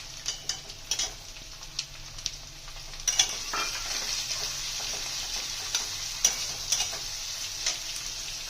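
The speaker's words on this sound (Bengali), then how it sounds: "এবার পেঁয়াজ দিয়ে দেবো।" Onions sizzle and crackle in hot oil over fried whole spices (kasuri methi, cardamom, cloves, bay leaf) for kasuri methi chicken, with steady frying hiss and scattered scraping clicks from a spoon stirring in the pan, louder after the first few seconds.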